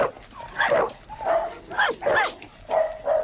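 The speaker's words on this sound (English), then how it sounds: "Now, this one, I know what you're thinking, but it is a dog." A small pampered dog gives a series of short, high, yappy barks and whines, close by and fairly loud, in a domestic setting.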